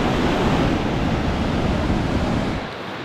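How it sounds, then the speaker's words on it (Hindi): Glacier meltwater in Nagar Valley, Gilgit-Baltistan, flows into a reservoir tank with a loud, steady rushing roar that drops slightly near the end, with no voices over it. "ये जो ग्लेशियर से पिघल के आ रहा है वो तो आ ही रहा है"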